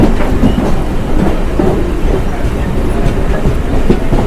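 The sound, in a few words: Diva-Roha MEMU train travelling in heavy rain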